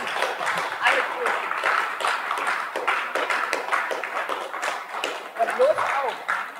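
An audience at a cultural matinee gives scattered, uneven applause in a hall, with irregular claps and some voices talking over it.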